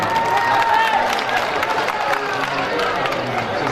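An audience at an All India mushaira in Ghosi, Mau, applauds and cheers as a poet arrives, a thick, sustained swell of clapping and crowd noise that starts strongest and eases slightly, with voices mixed in.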